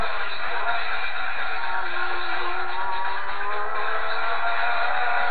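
A Nissan R32 drifting in Gran Turismo 2 gives a continuous, somewhat muffled engine roar with wavering pitch and a hissing tire scrub, under faint background noise.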